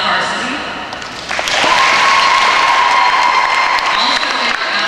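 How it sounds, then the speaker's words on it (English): A gymnasium crowd at a pom dance competition awards ceremony claps steadily and loudly, with cheers and whoops mixed into the continuous applause. "You can just clap for yourself."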